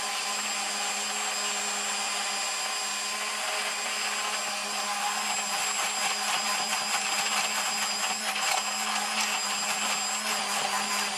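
A Cuisinart immersion blender whirring steadily while emulsifying homemade mayonnaise from egg yolks; the motor's whine holds constant, with a choppier, pulsing texture in the second half.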